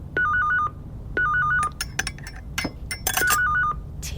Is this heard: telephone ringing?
yes